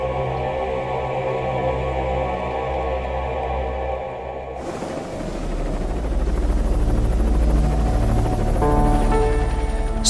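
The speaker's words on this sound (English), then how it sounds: "Search and rescue helicopters are immediately dispatched from Coast Guard stations" Search and rescue helicopter dispatched from a Coast Guard station, its rotor and turbine drone steady and loud, swelling into a heavier, broader roar partway through, with no voices.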